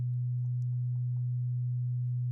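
A steady, constant synth note run through a low-pass filter with its cutoff set around 200 to 500 Hz, holding as a dark, unbroken low hum throughout with only faint upper traces.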